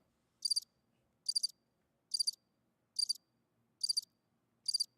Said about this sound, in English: Fucking crickets are loud tonight, man.